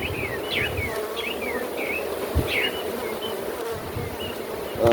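Honeybees buzz steadily and close during a winter hive check, a continuous drone with birds chirping faintly in the background.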